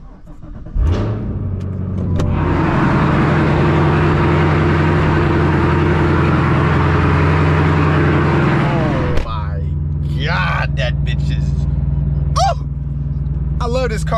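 A 668-horsepower Cadillac CT5-V Blackwing fires up with a sudden loud bark, then settles into a deep, steady rumbling idle that holds close and strong, with a brief revving change partway through and faint chirps above it.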